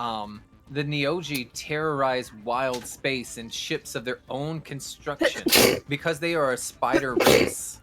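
A sharp, noisy sneeze bursts out in the middle of steady talking during a tabletop Dungeons & Dragons Spelljammer session, with a second similar burst soon after, both riding over continuous speech.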